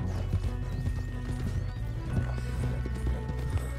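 Horse hooves clip-clop at a gallop in Red Dead Redemption 2, a steady rhythmic pounding that runs through the whole stretch over a dense game soundtrack, with a brief whinny in the mix.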